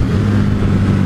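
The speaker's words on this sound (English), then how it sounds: "Hit the rev limiter." A 2018 KTM 1290 Super Duke motorcycle engine held against its rev limiter, giving a loud, steady, buzzing drone close up with no let-up and no voices.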